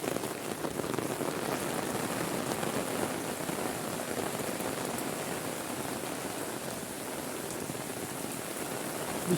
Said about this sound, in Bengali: দেখেন এত বৃষ্টি হচ্ছে